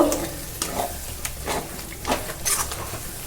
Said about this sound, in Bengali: এবার কিন্তু পেঁয়াজ বাটাটাকে সুন্দর করে কষে নেব।